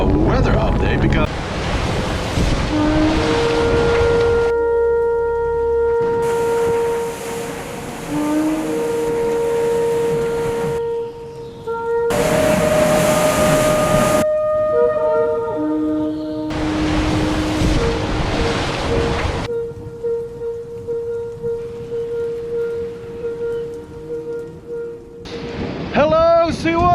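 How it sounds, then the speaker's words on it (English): A storm raging through a marina in Amsterdam, with loud gusts of wind buffeting the microphone in waves, sustained tonal howls and whistles between the blasts. "the storm is raging around here in Amsterdam"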